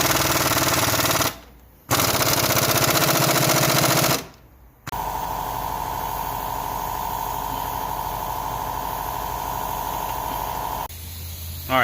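Impact gun hammering at a strut bolt on an Infiniti Q60 during a curbside coilover install, two short loud rattling bursts with brief pauses, then a longer steady buzzing run before it cuts off.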